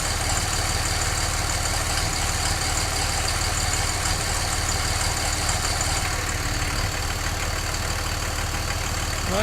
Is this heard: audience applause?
no